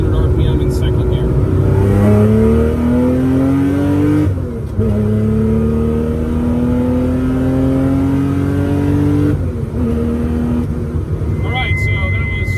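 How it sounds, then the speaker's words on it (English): Early Porsche 911 fitted with a GT3 muffler, heard from inside the cabin, revving hard toward redline through second and third gear with rising engine pitch, brief dips at the shifts, loud and close. "I'm going to show you what it sounds like inside the car at full red line shift."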